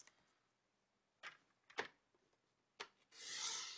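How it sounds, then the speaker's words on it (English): A paper trimmer blade slicing through card for a card box, heard as a few short separate scraping strokes followed by a longer steady rasp near the end, close and fairly quiet with no talking. "bring your trimmer blade, start it in."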